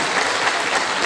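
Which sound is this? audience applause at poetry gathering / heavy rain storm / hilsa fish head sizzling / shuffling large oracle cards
audience applause at poetry gathering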